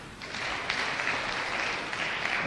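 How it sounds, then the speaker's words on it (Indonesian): Audience applause at a live talk, a steady wash of clapping that holds at an even level for the whole stretch with no pause. "Tepuk tangan, saudara."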